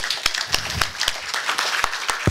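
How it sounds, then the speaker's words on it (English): A small audience at a winter talk gives a round of applause, with distinct sharp handclaps spaced out irregularly rather than blending into a thick roar. The clapping is moderately loud and close. "Give yourself a round of applause."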